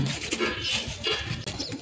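Pigeons coo as they settle onto a perch after a morning flight, their soft calls buried in loud, steady wind rush and outdoor noise.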